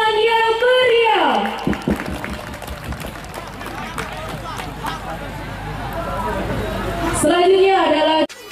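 A festival crowd claps loudly after a pencak silat opening display, a dense sustained burst of applause and cheering that swells and holds, with an amplified announcer's voice just before and after.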